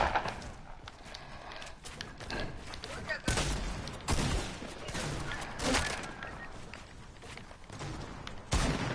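Quick bursts of video-game gunfire sound in short controlled taps, loud and close, repeating irregularly over a busy in-game background, with voices talking throughout.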